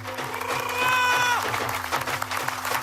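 Applause from an audience at a Janmashtami drama staged as a courtroom scene, dense clapping sustained throughout, mixed with crowd noise and a high tonal sweep early on.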